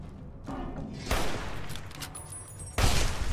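Gunfire in the video game Fallout New Vegas: two loud shots about two seconds apart, each followed by a dense burst of noise, over a constant background rumble.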